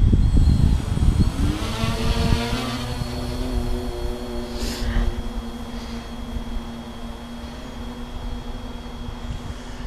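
Electric motors of an RC VTOL aircraft with tilting motors and no ailerons, whining steadily in flight as it transitions to forward flight, with the pitch shifting and settling into a sustained drone that fades slightly as it moves away.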